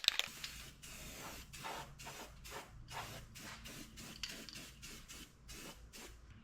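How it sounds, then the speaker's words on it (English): Krylon Farm and Implement black low gloss enamel sprays from a rattle can onto a mini bike frame in a rapid series of short, close, hissing bursts with tiny gaps between them; nobody talks. "I'm just gonna paint it with this Krylon Farm and Implement black low gloss enamel"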